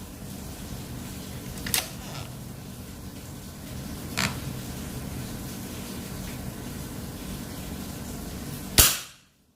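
Two soft sharp pops spaced apart over a constant hiss, followed by one loud, close crack from a 3500 psi PCP air rifle just before the sound stops.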